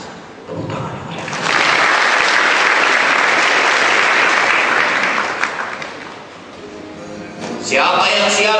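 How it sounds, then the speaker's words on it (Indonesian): A live audience bursts into loud, sustained applause at a motivational talk, the dense clapping swelling after a moment and holding steady for several seconds before fading, with a voice rising briefly near the end. "Tepuk tangan yang meriah."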